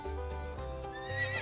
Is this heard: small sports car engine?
no